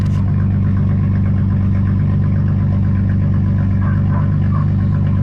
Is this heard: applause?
no